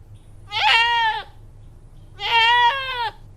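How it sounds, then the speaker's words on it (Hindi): A sacrificial goat for Eid al-Adha bleats twice, two loud, wavering calls each about three-quarters of a second long, close by, with a low steady hum underneath and no talk. "ये लीजिए, ये आपका बकरा है।"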